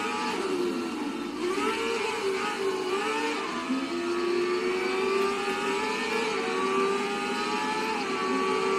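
A car engine in the Race Driver GRID game, driven in a demolition derby, revs loudly and steadily throughout, its pitch rising and falling with gear changes.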